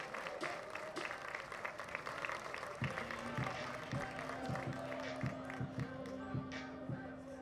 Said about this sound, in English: The Grizzly crowd gives him a round of applause